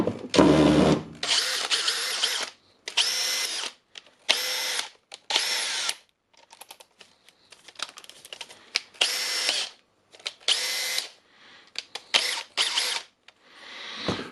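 A Makita DHP484 cordless hammer drill runs in hammer mode in repeated short bursts, each a loud buzzing rattle, separated by pauses of near silence.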